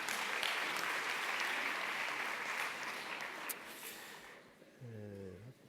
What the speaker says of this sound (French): On peut les applaudir maintenant.